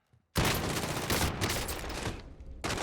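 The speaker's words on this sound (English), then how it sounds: "2 shotguns point blank and he didn't die?" Shotgun blasts in the Call of Duty Warzone video game come as a sudden loud, dense burst of gunfire lasting about two seconds. A second blast follows after a brief drop, with no talk.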